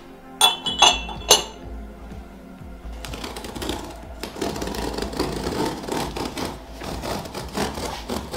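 Dishes clink and rattle, three sharp bright knocks near the start, then a denser run of light clattering and handling sounds that continues to the end, fairly close and moderately loud.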